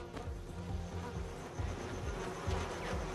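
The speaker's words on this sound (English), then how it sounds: "in order to produce half a kilo of honey, the bees must visit about 4 million individual flowers" Honey bees buzzing in a dense, continuous drone with no clear breaks, moderately loud and close, with no voices over it.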